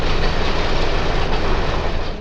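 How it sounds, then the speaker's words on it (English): A 1926 heavyweight electric multiple-unit train on the IC electric line rumbles past in the 1970s, with a loud steady roar of wheels and motors that fills the clip, close and continuous. "A train of the old 1926 multiple-unit heavyweight electric cars on the IC electric line"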